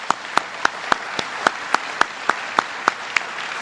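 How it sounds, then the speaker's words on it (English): An audience at a Capital Region sustainability conference in Schenectady applauds the mayor. Steady clapping fills the room, with sharp, evenly spaced claps that keep a regular rhythmic beat throughout. "Let's give our mayor a good round of applause."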